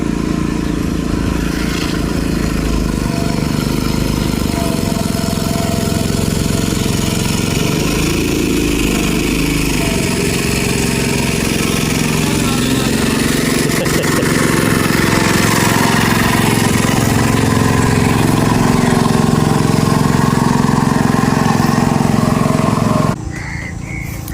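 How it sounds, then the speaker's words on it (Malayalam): A motorboat's engine drones loudly and steadily as it passes on a river, a rough mid-pitched chugging that holds throughout before dropping off abruptly at the end. "ഇഞ്ചൻ വള്ളമൊക്കെ വരുന്നുണ്ട്"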